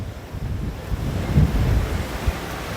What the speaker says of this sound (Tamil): சரியான அலைகள் ரொம்ப சரியாக ரொம்ப பெருசாக இருக்குது